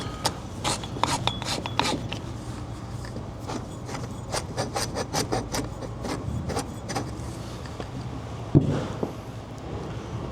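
A Ridgid reamer is worked around the end of 2-inch Uponor pipe, giving quiet repeated rasping strokes in an uneven rhythm, with a brief knock near the end.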